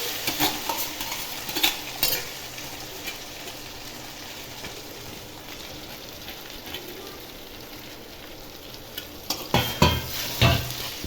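Vermicelli tossed with fried coconut in a pan for a sweet semiya dish, giving a steady soft sizzle under occasional scraping stirs, with louder clattering stirring strokes near the start and again toward the end.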